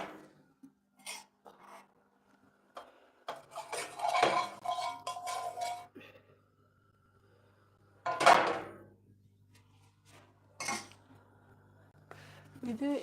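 A pan and cooking oil are handled on the stove for pancakes, with scattered metallic clanks, scrapes and clinks separated by quiet gaps and one louder clatter midway, faint voice traces in between.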